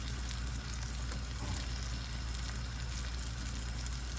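Minced garlic fries in a pan with a steady, close, even sizzle that holds for the whole few seconds, with no talk over it.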